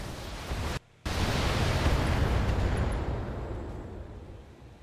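Mortar fire in the mech game Battletech: a loud, close booming blast that breaks off abruptly and then swells into a long, roaring explosive rumble that slowly fades.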